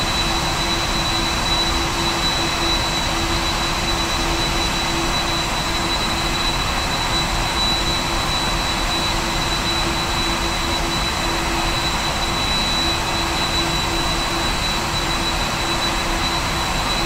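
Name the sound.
Boeing 747-400 jet engines at idle, PMDG flight simulator video game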